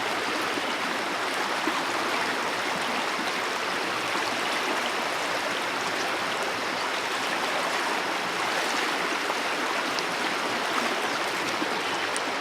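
Water flowing steadily beside an open body of water, a continuous broadband rush like a stream or small waterfall, close and even throughout with no talking.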